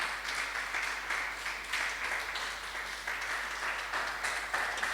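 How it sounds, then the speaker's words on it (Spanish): Church congregation applauding for the Lord during a Spanish-language sermon, a steady wash of many hands clapping that holds for the whole stretch at a moderate level with no talk over it. "Dele un aplauso al Señor, hermano"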